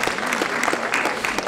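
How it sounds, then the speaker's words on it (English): An audience at a college annual day ceremony applauds BBA students ranked in the institute, a steady, close wash of many hands clapping that continues without a break. "Please keep on clapping for them."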